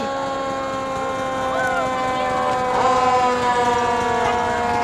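Fergus Falls Fire Department engine E1, a 38-foot urgent response rig, sounds its wailing siren in a summer parade, the rising and falling tone loud and continuous alongside steady engine rumble.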